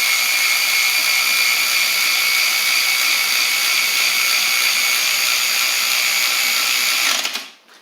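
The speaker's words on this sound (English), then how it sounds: "For one of these ratcheting wrenches, it's also relatively quiet too." An Eastvolt 3/8-inch cordless ratchet wrench runs in one continuous, steady high-pitched whir for about seven seconds, then spins down and stops abruptly near the end; no talking.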